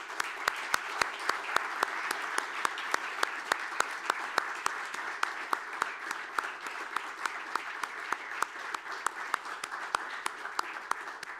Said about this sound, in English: they deserve an applaud from all of us